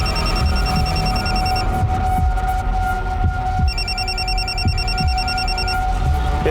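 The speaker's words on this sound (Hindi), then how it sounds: "ये फोन किसका बज रहा है?" An electronic phone ring chirps in repeated bursts, pausing and resuming, over a steady throbbing background hum.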